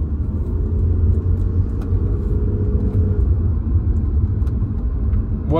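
A BMW 330Ci E46 engine hums steadily as the car drives on the road, a constant low rumble with a faint rising tone partway through, close and continuous with no talking.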